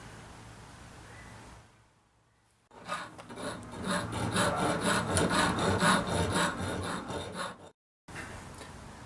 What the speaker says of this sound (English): compare reverse sheet cutters, also known as RS cutters, to tin snips and aviation snips for cutting sheet metal